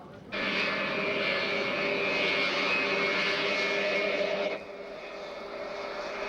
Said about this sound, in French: L'avion roule sur l'un des 4 ponts qui franchissent l'autoroute.